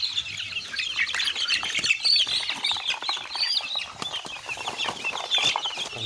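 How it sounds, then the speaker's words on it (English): Chicks on an African village farm cluck and cheep continuously at feeding time, a dense, close chorus of high peeps and chirps with no talk. "I want now to feed the chicks so that they can also enjoy."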